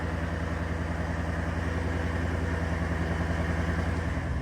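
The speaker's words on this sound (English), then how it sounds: "It's a little loud with the headers and aftermarket exhaust, but it started right up and she's idling good." A car engine fitted with headers and an aftermarket exhaust idles loudly and close by, a steady, even, throbbing rumble that continues without a break and with no one speaking.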